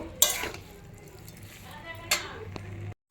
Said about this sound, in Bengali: চিনি আর লবণ দিয়ে এটাকে ভালো করে মিক্সড করব।